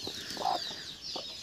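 A farmyard hen gives a few soft, short clucks near by amid quiet outdoor background, spaced irregularly with brief gaps and no voices.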